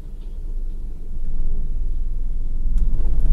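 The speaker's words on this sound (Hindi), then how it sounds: "एक गाड़ी का साउंड आप लोग सुन सकते थर थर थर थर आवाज कर रहा है" A car engine judders and rumbles as the clutch is let out past halfway on an uphill road, a steady low throb that swells and grows heavier, close and loud with no talking.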